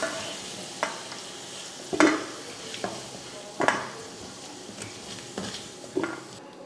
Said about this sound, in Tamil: இதை ஒரு பிளேட்டுக்கு மாற்றிடுவோம்.